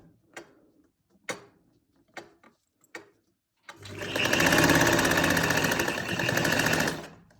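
A few sharp isolated clicks come first, then a sewing machine stitching the neckline of a kurti starts up in a fast, steady rattling run for about three and a half seconds before stopping.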